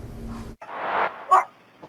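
A neighbor's surveillance camera picks up dogs barking at night during a police visit to a house. There are a couple of muffled, hollow barks and a short yip, set against low background noise that then cuts out.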